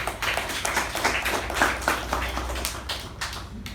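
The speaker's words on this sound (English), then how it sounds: "let us give them another round of applause" A meeting audience claps in a brisk, close round of applause, with individual hand strikes audible as quick, uneven taps throughout.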